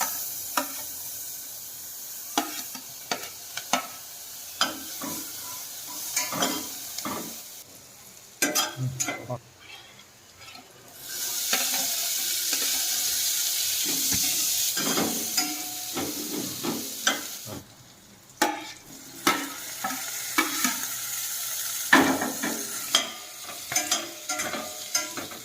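Onions frying in butter in a pan, with stirring scrapes and clatter over a steady sizzle that swells into louder hissing bursts before falling back to intermittent stirring.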